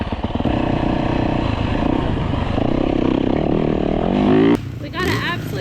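A Yamaha YZ dirt bike engine revs loudly and steadily at a track, its tone climbing before cutting off sharply, with people talking nearby underneath.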